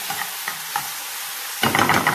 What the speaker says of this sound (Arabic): وهبدأ بقى انزل بالطماطمية بتاعتي، وهقلب برضه كله مع بعضه تاني